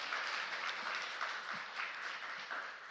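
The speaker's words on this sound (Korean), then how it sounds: "우리 박수로 하나님께 영광 돌립니다" A congregation applauding in church after a choir performance, soft and distant clapping in a steady wash.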